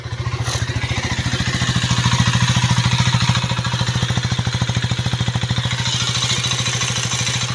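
A KTM 390 Duke motorcycle with an underbelly exhaust idles close by, a steady, even low thump running throughout with a light mechanical clatter on top and no talking.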